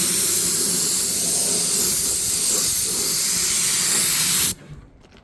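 One Choice UV primer sprayed from a spray gun in a continuous loud hiss lasting several seconds, then cutting off abruptly to quiet; no talking.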